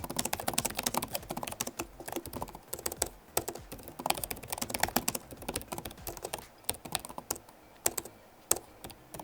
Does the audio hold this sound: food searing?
no